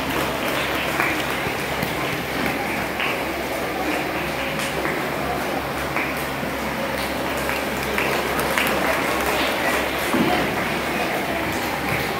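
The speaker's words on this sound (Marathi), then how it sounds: "मुलांनो टाळ्या वाजल्या पाहिजेत" Children clap at a karate belt exam, a continuous soft patter of applause from a group that holds steady throughout, with an adult voice speaking over it at times.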